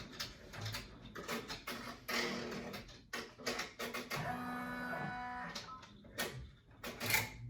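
An embroidery machine stitching a zigzag line over a wire while making a face mask in the hoop: quiet, rapid mechanical chattering in rhythmic bursts with brief pauses and a whirring run in the middle.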